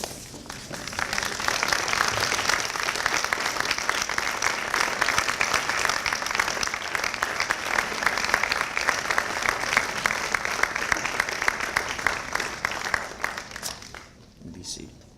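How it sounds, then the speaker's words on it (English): Loud, sustained applause from the audience at a dental medicine school commencement fills the hall with dense, continuous clapping for over ten seconds before fading out. "acknowledge their love and support with a round of applause"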